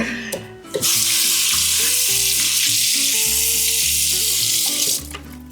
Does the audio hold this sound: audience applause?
no